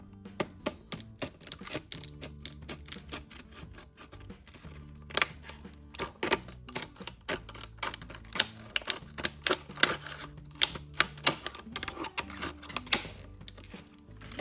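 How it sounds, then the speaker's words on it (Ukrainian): A rapid series of close, sharp snips and crinkly cuts from scissors cutting open sealed plastic packaging, irregular in rhythm, with no voices present. "Давайте швиденько її розпакуємо, використаємо для цього мої ножиці."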